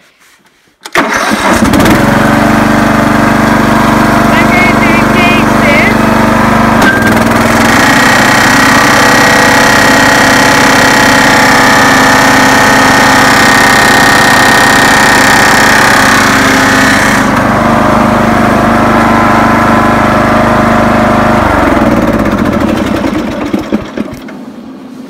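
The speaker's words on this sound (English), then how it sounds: "when I engaged the mower blades, it started to make this digga digga digga diggy noise because the blades are hitting against the metal that protects the rider" A ride-on mower starts up and runs loud and close for about twenty seconds, its engine roaring steadily with a rattling, clattering knock from the blades striking the protective metal guard, then winds down at the end.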